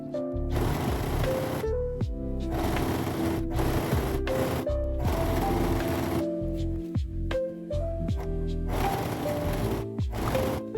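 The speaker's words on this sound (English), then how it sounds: "And then you can start sewing using a zigzag stitch and normal tension." A sewing machine runs a zigzag stitch through shirt fabric at normal tension in bursts of fast mechanical whirring and rapid needle thumping, stopping and starting several times close up.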